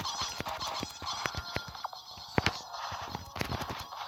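Clucking chickens in a Warcraft-style strategy game fill a busy battle soundscape, with sharp clicks, thuds and clip-clop-like hits stacking over a constant mid-level clash, and no talk.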